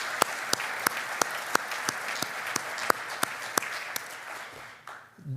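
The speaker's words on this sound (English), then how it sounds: "Let's all give Dan a round of applause as he gets up here." Sparse, regular claps ring out at an award ceremony honoring a distinguished alumnus, distinct individual hand claps spaced about a third of a second apart, fading out near the end.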